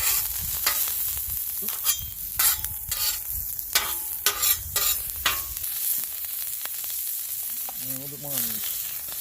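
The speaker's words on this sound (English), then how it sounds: "A little bit of oil. We're going to get some chilies going." Chilies fry in oil on a Camp Chef Explorer double-burner stove. A steady close sizzle runs under a series of sharp stirring and scraping strokes, with a person briefly speaking over it.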